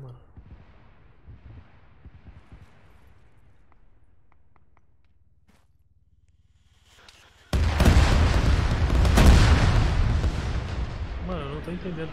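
Gunfire in the video game Arma 3 King of the Hill: quiet footsteps and faint sounds for several seconds, then a sudden loud burst of sustained shooting and booming that stays intense to the end.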